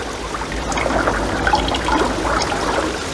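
Flowing water of a river spring as an audio drama effect, a steady close rushing and trickling stream with faint bubbling, continuous throughout.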